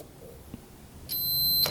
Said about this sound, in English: if we hear a beep, we know we're good.